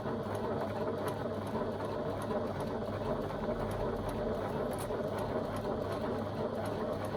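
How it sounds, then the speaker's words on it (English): Sewing machine stitching a seam and back-stitching at the end, a steady continuous mechanical whir with a faint rhythmic patter that runs at an even, moderately quiet level throughout. "I'm just going to back stitch a couple of stitches"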